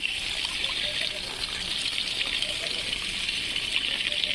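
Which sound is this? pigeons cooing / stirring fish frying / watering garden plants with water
watering garden plants with water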